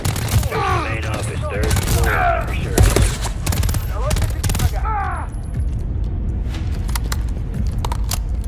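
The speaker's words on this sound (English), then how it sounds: "There's enemy fire!" Video game gunfire with rapid crackling shots through the first half, under shouted voices and a steady low rumble, thinning to scattered faint pops later.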